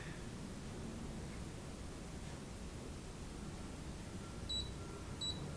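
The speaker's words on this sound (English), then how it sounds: "It should beep twice" Two short electronic beeps from a RunCam 5 camera confirming saved settings sound near the end over a quiet, hissy background, spaced under a second apart.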